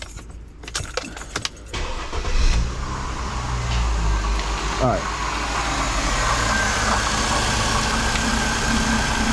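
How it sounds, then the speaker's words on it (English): A Mercedes-Benz W204 car engine idles with a steady broadband rumble and a constant hiss from an intake manifold leak, after a brief spoken phrase and some jangling at the start. "there is a hissing down here"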